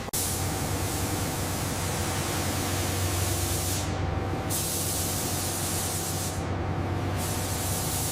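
A steady, loud spray-gun hiss continues as crimson paint is sprayed onto a mechanical black widow spider, with two brief dips in the airflow.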